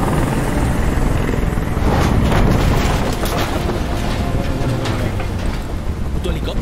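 A helicopter in the video game Detroit: Become Human gives off a loud, continuous rotor roar with deep rumbling, filling the scene without letup from start to finish.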